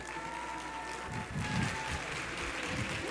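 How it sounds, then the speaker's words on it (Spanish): An audience at a reading-mediators lecture welcomes Dr. Daniel Cassany with applause. The clapping is soft and distant at first, then swells into a fuller, steady round. "Recibámoslo con un fuerte aplauso."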